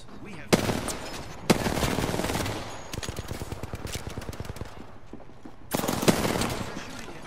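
Battle royale video game firefight with bursts of automatic gunfire, sharp shots opening loud volleys that rattle on in rapid rhythm, then a steadier crackle of distant fire before another heavy burst near the end.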